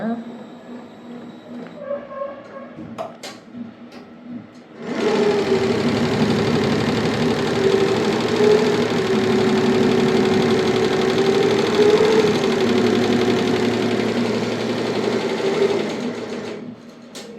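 A sewing machine stitches a blouse, running steadily and close for about twelve seconds after a brief quiet start, with faint speech before it begins.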